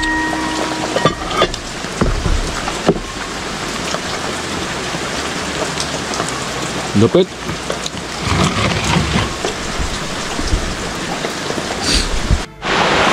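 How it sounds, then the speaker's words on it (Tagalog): Heavy rain pours steadily onto surfaces outdoors during a meal, a loud dense roar with occasional heavier splashes and a possible rumble of thunder, with people talking over it. "Kaya sumabay ang malakas na ulan."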